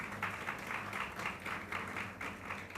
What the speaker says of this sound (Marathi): त्यांच्यासाठी एकदा टाळ्या होऊन जाऊ द्या